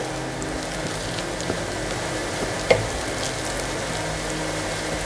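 Onions for mutton korma fry in a pan as they turn golden brown, a steady, close, crackling sizzle with one small pop partway through.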